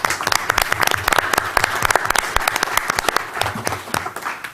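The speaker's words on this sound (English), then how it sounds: "let's give her a round of applause" A crowd at an association event applauds a speaker warmly, with individual sharp claps standing out in a lively, uneven rhythm that carries on throughout.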